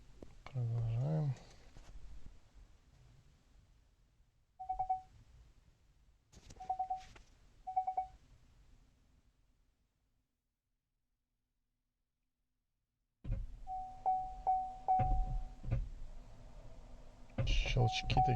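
Park mechanism on a 2019 Chevy Bolt EV with a fault that stops it engaging Park: a few short, distinct mechanical clicks spaced a second or so apart, fairly close and faint, with a quiet gap and some talk and handling noise around them.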